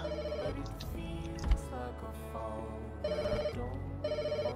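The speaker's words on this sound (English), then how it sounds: "Pick up the ringing phone." A telephone rings in the Pets Hotel game, sounding in two bursts of bright electronic trills separated by game music and effects.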